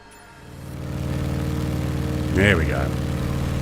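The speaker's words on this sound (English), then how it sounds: "I think I'm going to turn that engine noise back up because you can't hear it as much outside either." A Stearman biplane's engine in Microsoft Flight Simulator, flying over the Columbia River, gives a steady low droning hum that swells slightly, with a voice briefly speaking over it.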